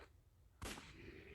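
A single sharp gunshot from the West Gunfighter video game cracks out after a quiet moment, followed by a short ringing decay.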